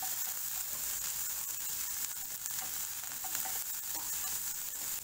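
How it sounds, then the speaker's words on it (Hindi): Sweet corn stirred in a pan with black pepper powder for spicy masala corn, giving a dense, even sizzle with light scraping throughout. "मिक्स कर लेंगे हम।"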